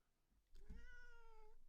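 A cold cat lets out a single drawn-out meow, clear and close, lasting about a second after a short quiet stretch.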